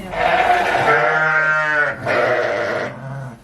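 A pregnant ewe close to lambing bleats twice, close and loud: a long wavering call followed after a short pause by a second shorter bleat, with no talk over it.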